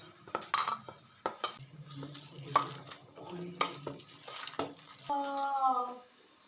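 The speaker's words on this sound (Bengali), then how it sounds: "চাউলের গুঁড়া দিলাম। তো ভালোভাবে মেখে নিলাম।" Rice flour being worked into batter by hand for traditional Bengali fried fritters, a run of soft squelching, slapping strokes close up, with a brief bright clink near the end.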